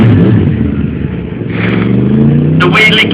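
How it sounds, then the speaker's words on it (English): A big motorcycle revs hard during a wheelie stunt at the Bike Wise 2012 show, its loud, rising engine note close and continuous, with a brief high-pitched squeal near the end. "The wheelie king on the big bikes."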